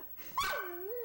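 A single dog bark that trails into a rising and falling whine-like yelp, loud and close in a quiet room.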